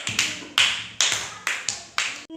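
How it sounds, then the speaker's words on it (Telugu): A group of children claps in sharp, evenly spaced bursts, about five or six in a row, each one crisp and close and clearly separated from the next. "very good claps"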